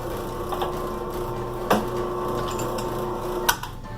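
A drill bores holes in the valve body of an air blower wand. A steady whining motor hum runs throughout, broken by two sharp metallic knocks.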